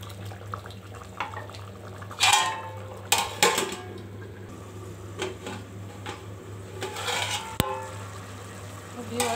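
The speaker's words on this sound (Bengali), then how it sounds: "দু একবার ঢাকনাটা উঠাই একটু করে নেড়ে ছেড়ে দিতে হবে লেগে না যায়" Chicken biryani in a covered pot: the lid is lifted with a few clanks of metal on metal and the rice is stirred, with scattered scraping and clatter over a low steady hum.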